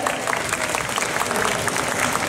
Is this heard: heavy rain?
no